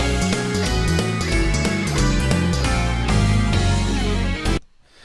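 A final mix of harmonized guitars plays a dense, layered passage with steady rhythmic notes and full chords, loud and continuous until it cuts off abruptly near the end, leaving near silence.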